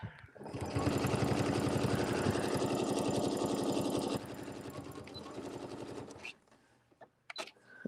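Embroidery sewing machine stitching a filler and wing design, a loud, steady rapid needle chatter that drops in level partway through and then stops, followed by a few faint clicks.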